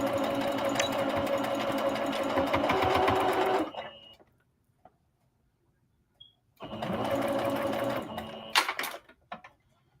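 A home sewing machine stitches soft skirt fabric for palazzo pants, running in a steady loud burst, pausing in near silence for a few seconds, then starting again with a shorter run and a few clicks as it back stitches.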